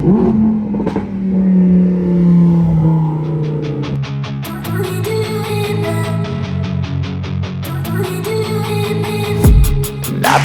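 Luxury sports cars such as a Lamborghini and a Porsche on a Dubai road near Palm Jumeirah: one engine roars close by and revs hard in rapid bursts, loud and gritty, then settles back to a rumble.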